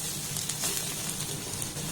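Onion, chili and poppy seeds fry in a pan, giving a soft continuous sizzle and crackle at close range, heard alone without talk.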